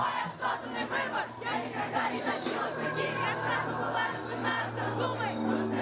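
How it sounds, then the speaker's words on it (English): A concert crowd roars and cheers, a dense wash of many voices with whoops and shouts rising throughout, heard from within or near the audience. "But hear that audience."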